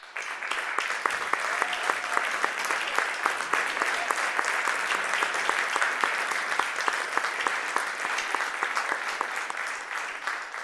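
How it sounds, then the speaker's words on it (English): Sustained, dense applause from a large audience honoring alumni at a gala celebration, loud and even throughout with no speech over it. "so that we can just give you another round of applause"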